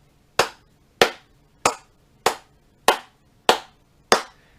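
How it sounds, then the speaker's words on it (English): Seven sharp hand claps land at a steady, even pace, each a crisp close slap with a quick decay and near silence between. "we have the same amount of time in between every clap or every note that we play"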